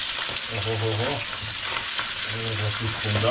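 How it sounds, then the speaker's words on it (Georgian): Chopped chicken hearts and livers fry in a pan, a steady close sizzle running throughout while a voice speaks briefly over it. "ტაფაზე მოვათავსოთ დაჭრილი გულღვიძლი."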